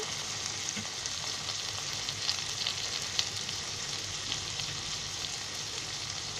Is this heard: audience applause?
no